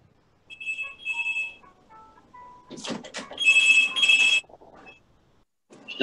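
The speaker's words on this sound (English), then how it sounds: "Somebody's phone's ringing." A mobile phone rings indoors during a painting session: short melodic ringtone bursts repeat at moderate volume, with a brief rustle and faint voice between them.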